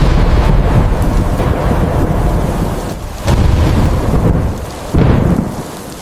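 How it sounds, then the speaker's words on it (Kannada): Heavy rain pours steadily at night while deep thunder rolls and cracks several times, loud and close, with no voices. "ಹೊರಗಡೆ ಗುಡುಗು ಮಿಂಚು ಜೋರಾಗಿ ಮಳೆ"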